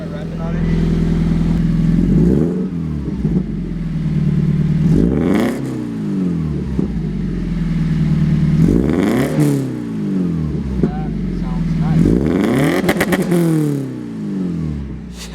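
A 2022 Subaru BRZ with a Grip catback exhaust revs repeatedly, its engine note climbing and falling in several loud sweeps over a steady idle. People talk over it between the revs.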